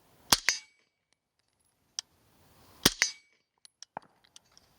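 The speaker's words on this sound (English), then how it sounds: "You want me to shoot?" Two suppressed gunshots fired at a dirt berm on a shooting range, sharp loud cracks about two and a half seconds apart, followed by faint light clicks and taps.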